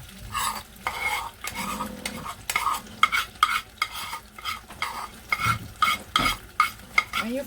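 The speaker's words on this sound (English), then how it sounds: "When you finish frying your curry" Curry chicken gizzards with okra frying in hot oil are stirred with a utensil in a pot, giving repeated scraping strokes in a steady rhythm over a constant sizzle, close and fairly loud.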